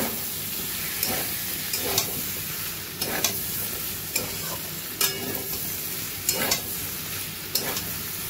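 Tomatoes are stirred into a papaya curry in a hot pan: a spatula scrapes and thumps at regular intervals over a constant sizzle of frying, close and loud, with no talking.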